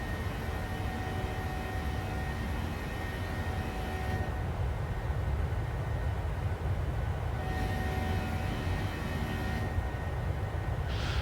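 Steady, loud engine roar and airflow rumble inside an SAS Boeing 737-600 climbing out after takeoff from Athens, a continuous broadband drone with slight shifts in tone and no talk.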